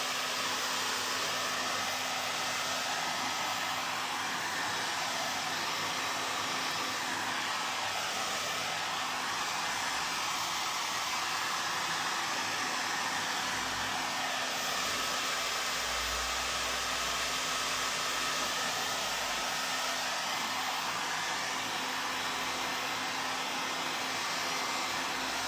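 A hair dryer blows steadily and close for the whole stretch to dry paint on a shabby chic candle holder, a continuous airy roar with a low hum and no pauses or speech.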